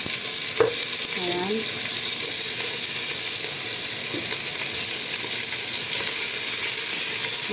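Pork bones and ginger pan frying in a pot for a Chinese soup, a steady close sizzle running throughout with a brief utensil clink and scrape early on and a short spoken word.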